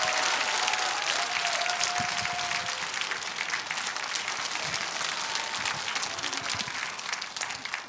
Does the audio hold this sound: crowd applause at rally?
yes